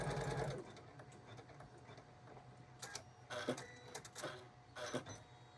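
An embroidery sewing machine stitches an in-the-hoop appliqué quilt block, a loud fast mechanical whir at first, then quieter steady running with repeated short bursts of rapid stitching chatter.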